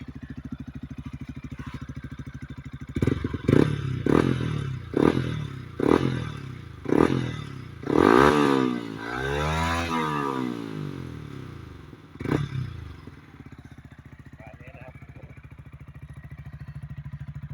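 A Yamaha R15M motorcycle with a long aftermarket exhaust idles, then revs in a series of sharp throttle blips, rising into a longer swelling rev before settling back to a low idle; the tone is soft, not harsh.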